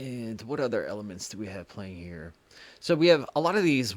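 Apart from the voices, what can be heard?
No everyday noise stands out behind the speech.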